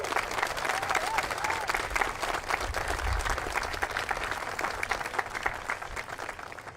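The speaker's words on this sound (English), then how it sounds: "Let's give him another round of applause." Dense, sustained applause from a large outdoor crowd at a cemetery ceremony honors the choir director, a continuous wash of many hands clapping at even volume throughout.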